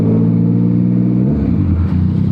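A Yamaha MT-09 SP motorcycle engine pulls hard under acceleration, a loud close-up three-cylinder growl that rises and shifts in pitch through the short burst.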